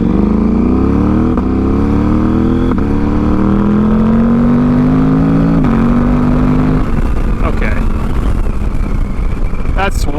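A KTM 790 motorcycle engine fitted with a rally intake revs hard twice while not yet warmed up, its loud tone climbing steadily through each pull before dropping back to a rough idle.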